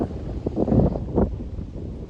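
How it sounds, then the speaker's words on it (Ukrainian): Strong wind buffets the microphone in loud, low rumbling gusts that swell and ease throughout, with no talking. "Дуже-дуже сильний вітер взагалі, дуже."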